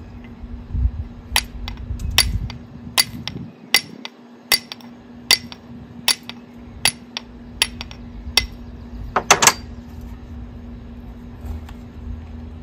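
A steel fire striker scraping against flint to catch a spark on denim char cloth outdoors, about a dozen sharp metallic clicks at a steady pace, loud and close against a quiet background with a low hum.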